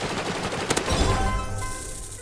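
Rapid automatic AK rifle fire in a Roblox shooter game, a dense burst of loud cracking shots that trails off into a fading tail, with no voices over it.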